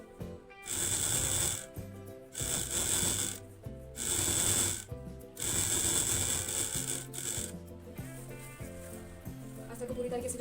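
Domestic sewing machine stitching the lining of a dress made from an old saree, running in several bursts of a few seconds each with brief pauses between them, loud and close, with music playing underneath.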